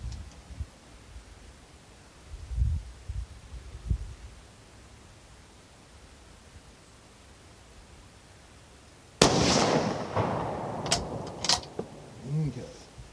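A Remington 722 rifle chambered in .222 fires test loads, with one sharp, loud report near the end and a few quieter thumps earlier, followed by short bursts of echo and handling noise.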